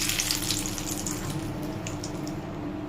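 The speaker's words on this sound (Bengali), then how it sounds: "এবারে তেজপাতা আর শুকনো লঙ্কা ফোড়ন দিয়ে দেবো" Bay leaves and dried red chillies frying in hot oil as a tempering for a hilsa-head and Malabar spinach curry, a close, steady sizzle with light crackling throughout.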